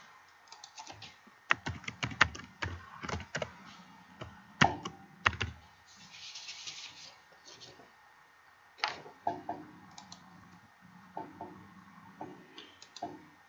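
Keys clatter on a computer keyboard in irregular bursts of quick, light taps with short pauses between, fairly faint and close, with a voice talking quietly in the background.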